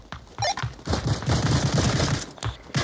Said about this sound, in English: I'm getting shot from 2 different angles